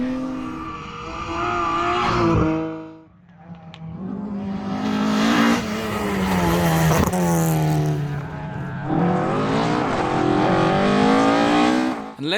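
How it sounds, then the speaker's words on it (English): A BMW Compact rally car races on a stage at Aghadowey, its engine revving hard and rising and falling through repeated gear changes, loud and close throughout. "Another man who's got the hammer down is Niall Carey in the BMW Compact"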